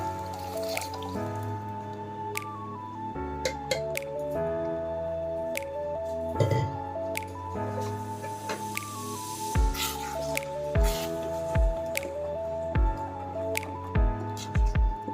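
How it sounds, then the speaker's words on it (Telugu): Boiled lentils (dal) are poured into a cooking pan, giving soft wet squishing and dripping sounds that repeat in short bursts over steady background music. "పప్పుని మొత్తం యాడ్ చేసేసుకోవాలి దీంట్లో."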